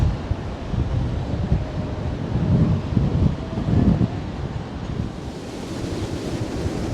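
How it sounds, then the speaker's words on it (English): Storm waves from Storm Malik wash and surge against the Blackpool sea wall in a continuous low roar, swelling twice in the middle, with gusty wind buffeting the microphone throughout. "I like to watch the waves lapping up this sea wall here"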